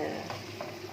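Vegetable soup seasoned with black pepper being stirred in a kitchen pot, a soft continuous sizzling hiss with faint scraping strokes, close and low, with no talking.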